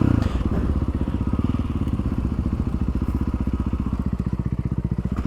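A motorcycle engine putters in a fast, even rhythm of low pulses as it rides along a road, close and loud, settling from a rougher start into a steady throb; no distinct braking stands out.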